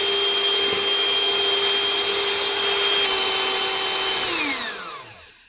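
An electric hand mixer whips egg whites toward stiff peaks for a chocolate mousse tart, its steady loud whine running continuously for about four seconds before the motor spins down and stops.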